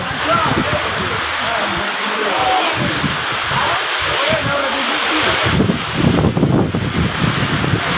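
Heavy rain pours at the Gabtoli cattle market, a loud, broad roaring wash with gusty, wind-like surges throughout and a few faint voices underneath.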